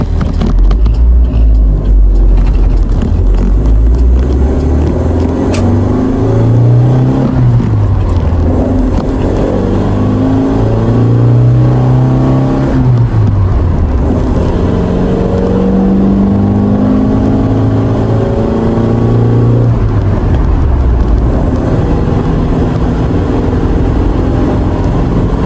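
A mini truck with a clutch problem drives along, its engine loud and close, revving and droning with gear changes and rising and falling pitch throughout.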